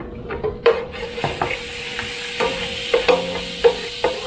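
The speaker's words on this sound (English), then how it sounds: "Just mix it all up." A keto Parmesan chicken mixture with onion powder is stirred by hand in a bowl, giving repeated scraping and clinking strokes at close range with no talking.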